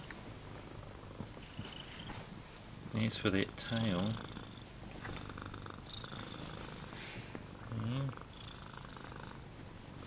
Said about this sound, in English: Can hear him purring.